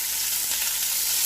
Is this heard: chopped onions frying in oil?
yes